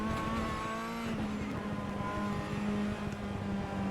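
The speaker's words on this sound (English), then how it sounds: "I hear the backfires too behind me." Racing car engine in the video game rFactor 2 roaring steadily with sharp popping backfires scattered throughout, loud and close, no voices.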